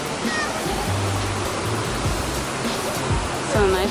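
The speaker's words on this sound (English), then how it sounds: "There's a little waterfall right here." A small waterfall at a lake pours steadily, a broad continuous rushing wash close by with no breaks, while faint voices come through in the background.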